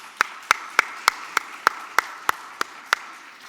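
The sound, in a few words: audience applause for the panelists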